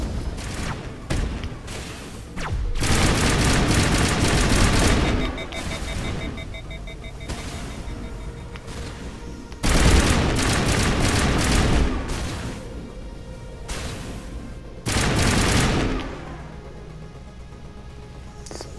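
Explosive rounds in the video game Mass Effect fire in three loud, booming volleys separated by quieter stretches, each burst dense and heavy with low rumble.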